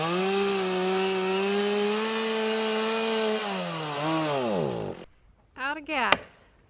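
A chainsaw engine runs at a steady high whine while cutting a black walnut tree, its pitch sagging under load near the end, then cutting out and briefly revving again.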